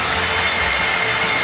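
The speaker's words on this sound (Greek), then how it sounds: "χειροκρότημα από καρδιάς του φίλου κόσμου" Basketball fans at OAKA in Athens give Mike Batiste warm applause at a Panathinaikos game, a dense, steady wash of clapping from a large arena crowd with no clear breaks.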